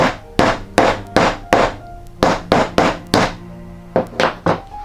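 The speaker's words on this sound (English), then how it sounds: "So this one too, you hammer this." A hammer strikes a faux leather bag piece in a rapid series of about a dozen sharp, close thuds, grouped in uneven bursts with brief pauses, with no talking.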